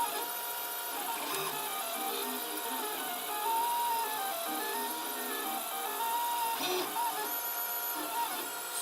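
A 3D printer lays down blue filament with the nozzle at 220 and the bed at 30, its stepper motors whirring and chirping in shifting tones at a steady, fairly quiet level without talk.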